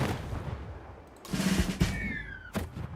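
Gunshots in a wrestling video game, a few sharp cracks and booms over a low background, with a whistling streak after one blast.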